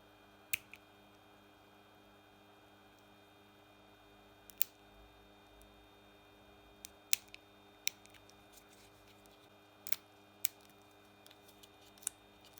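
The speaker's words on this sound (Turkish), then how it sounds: "Makaron soğuduktan sonra kilit mandala etrafındaki bölümü kesiyorum." Heat-shrink tubing being cut around the headrest latch of a Renault Megane 3 / Fluence seat: a few sparse, faint, crisp snips spaced seconds apart over a quiet background hum.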